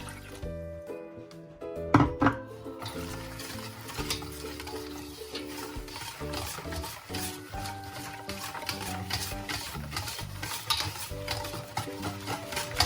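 Marinade for a chicken steam roast mixed by hand in a bowl with lemon juice, soft wet stirring and squelching under quiet background music, with a louder clatter near the start.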